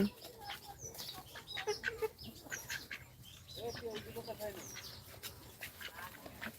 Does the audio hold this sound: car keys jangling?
no